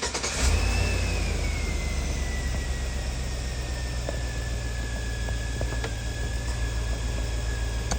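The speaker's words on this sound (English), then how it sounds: "When I cut the car on and ease on the brake." A car engine starts with a quick crank and catches, then settles into a steady idle with a thin whine drifting slightly lower, close and loud throughout.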